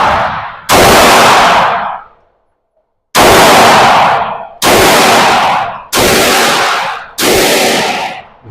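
Five loud, close 9mm shots from a Glock 19X pistol at an outdoor range, each a sharp crack with a long ringing decay, a pause after the first, then four evenly spaced.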